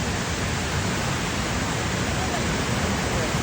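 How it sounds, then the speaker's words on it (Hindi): Heavy waterfall flow at Parvati Bagh on the Shrikhand Mahadev trek, a loud, steady, broadband roar of rushing water that stays constant throughout without breaks. "पार्वती बाग वाले झरने का जो फ्लो बना है ना, वो एक्सट्रीम है"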